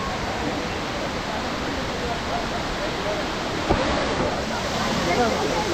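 Kiliyur waterfall in Yercaud gives a steady, broad rushing roar of falling water, even and unbroken throughout.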